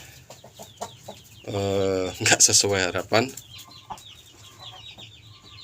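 A chicken clucks up close, with a drawn-out squawking call followed by shorter clucks, and someone talks briefly before and after the calls.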